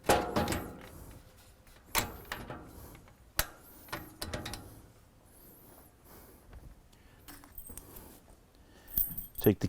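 Keys jangle and clink near a wall-mountable DAMAC data rack, in several short metallic bursts with quieter rattles between, ending in a louder clatter.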